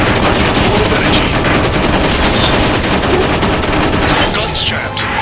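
Rapid machine gun fire from toy-style warplanes in the War Wings video game, dense continuous bursts with engine drone layered together, loud and unbroken to the end.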